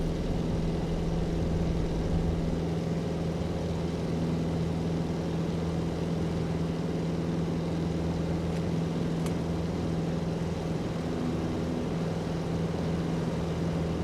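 A light aircraft engine in a flight simulator holds a steady loud drone at full takeoff throttle, with a strong constant hum running through the whole stretch.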